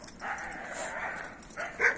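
Dogs make a short whimpering, yipping sound, two brief bursts at moderate distance against quiet outdoor background.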